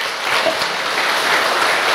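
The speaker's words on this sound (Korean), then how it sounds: "박수 한번 주시고요" Audience applause at a Korean book-related gathering, a steady dense wash of clapping sustained for the whole two seconds with no voices over it.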